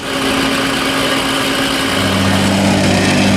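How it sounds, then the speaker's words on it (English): A plate compactor tamps masonry sand for a paver installation, a loud steady engine drone and vibration that holds throughout, its low rumble shifting slightly partway through. "So now they're tamping the masonry sand."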